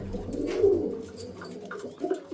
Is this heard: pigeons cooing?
yes